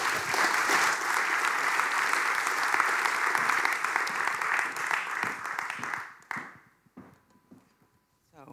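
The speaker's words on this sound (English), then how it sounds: "an applause." Sustained applause from an audience greeting Roosje Klap at a talk on activism and graphic design, dense and steady for about six seconds, then thinning into scattered claps and falling quiet.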